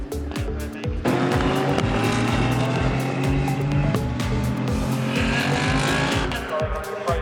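GT Cup race cars at full speed on the Snetterton circuit, engines roaring loud and close with rising and falling revs, gear shifts and tyre squeal as several cars pass in a continuous rush.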